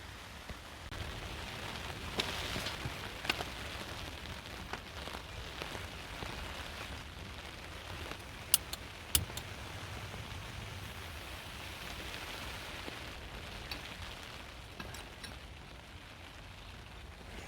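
Steady soft patter of rain on a tent nearby, continuous and faint, with a few sharper drips standing out now and then.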